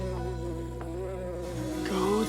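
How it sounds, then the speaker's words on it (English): A bee buzzes steadily in a classroom, a continuous droning hum that swells slightly toward the end, close by with no talking. "And someone get rid of that bee."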